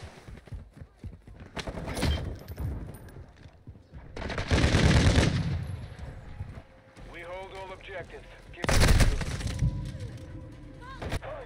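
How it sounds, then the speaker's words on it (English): Gunfire in Call of Duty Modern Warfare 2 Domination on the Santa Sena Border Crossing map, with loud bursts of shooting in several clusters mixed with radio callouts and other game voices. "Taking fire."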